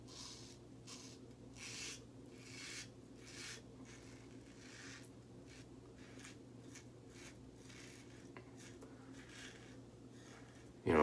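A razor makes a touch-up shaving pass in quiet, closely recorded strokes. Soft, rhythmic rasps repeat about every second over a low background hum.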